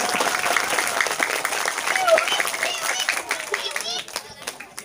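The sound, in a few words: children applauding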